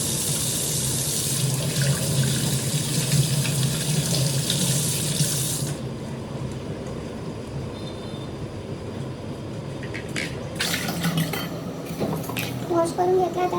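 Mangoes being rinsed under a running kitchen tap, with a loud steady water gush that cuts off partway, a quieter stretch, then water and handling noises returning close by.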